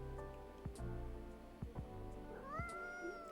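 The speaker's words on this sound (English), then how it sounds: "This keeps meowing." A cat meows a few times in a café setting, the calls rising and falling over steady background tones and light clatter, fairly close to the listener.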